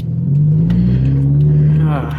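A Subaru WRX tuned for E85 accelerating on the road, a loud, close engine drone that holds steady and climbs slightly in pitch over a couple of seconds.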